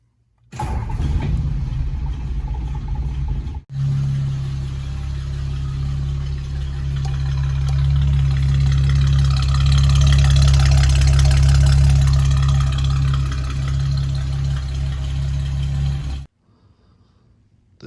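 A 1949 Ford with a 226 flathead six-cylinder engine starts and idles steadily through a new stock-style muffler and pipe, a loud, close, deep, even rumble that runs for about twelve seconds before cutting off.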